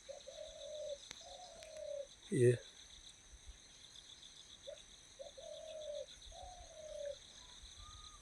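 A small wild bird in sunny Uttarakhand countryside gives soft, pigeon-like cooing calls in short repeated phrases, with a brief louder knock midway and a faint insect hum running underneath.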